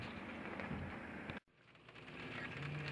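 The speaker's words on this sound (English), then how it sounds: "just started pouring rain, so I've moved into the cabin" Heavy rain pours steadily onto a sailboat in a dense, close hiss that cuts out for a moment and then returns at full strength.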